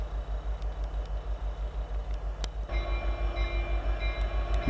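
A CN freight train with a rear DPU locomotive rolls past at West Ladysmith. A steady, loud rumble and a rhythmic clatter of wheels on rail joints run throughout, and a brighter metallic squeal rises partway through. No one speaks.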